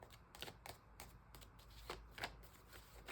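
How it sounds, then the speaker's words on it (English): Tarot cards are shuffled close by in soft, quick riffling bursts at an uneven rhythm, faint against a low background hum. "let me just stop shuffling"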